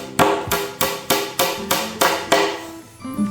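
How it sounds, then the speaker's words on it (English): Seven sharp hammer blows driving wooden dowels into an IKEA SKRUVBY cabinet in a steady, even rhythm, close and loud, with no talking. "use the hammer to push it down"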